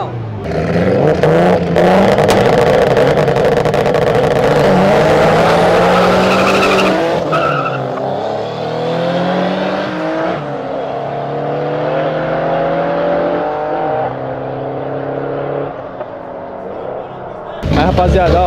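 Loud roaring engine revs of a buggy racing at Interlagos, with screeching tires, rising and falling pitch, then settling into a sustained drone; excited voices break in now and then.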